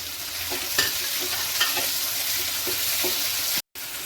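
Chopped tomatoes and curry leaves fry in oil for coconut chutney, a loud steady sizzle broken by occasional stirring scrapes, close up, with a brief dropout near the end.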